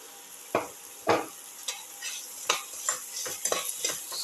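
Ginger sizzling softly in a pan while being sautéed and stirred, with a series of scraping spatula strokes that come at an irregular rhythm over a quiet, steady fry.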